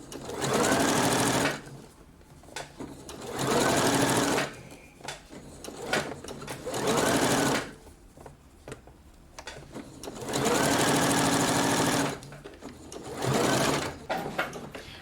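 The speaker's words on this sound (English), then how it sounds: "So put your sleeve under, sew all the way around" A sewing machine stitches a blouse sleeve into the armhole in several loud, close bursts of steady whirring, separated by pauses with handling noises and shuffling of fabric.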